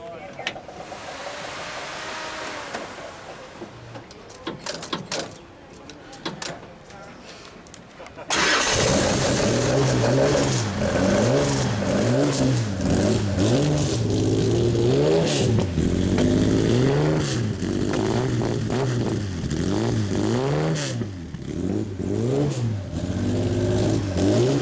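A 1958 Lister Jaguar Knobbly sports racer engine fires up after quieter cabin sounds, then runs loud and close with a steady idle broken by repeated rising and falling revs over about sixteen seconds.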